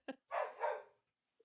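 Dogs barking indoors at home, a short sharp yip followed by a longer double bark, fairly close and loud, then quiet.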